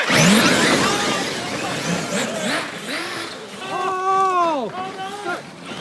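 Traxxas Xmaxx RC car revving and racing around a skate park, its motor whining in rising and falling sweeps, loudest in a strong burst near the end, with excited voices talking over much of it.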